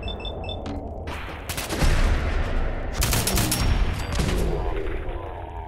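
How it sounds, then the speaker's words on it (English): Machine-gun fire and other weapons in an all-out battle in Fallout 4: dense bursts of rapid automatic shots and heavy blasts, loud and continuous, with small beeping tones at the start. "the machine guns are going to be probably shooting at me because they see me with this guy"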